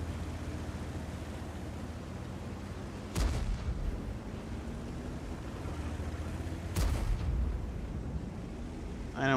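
Artillery fires in a video game: two loud booming shots several seconds apart, each with a sharp crack and a rumbling tail, over a steady low background hum.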